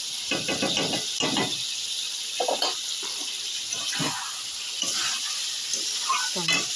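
Dal and cauliflower cooking in a hot pan sizzle steadily as ghee goes in, with intermittent scraping and stirring bursts over a constant bright hiss, no voices.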